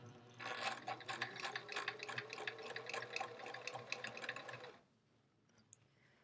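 A home sewing machine stitches a white border strip onto an "I Love Home" block-of-the-month quilt, giving a steady, rapid mechanical chatter for about four seconds before stopping, close and fairly loud.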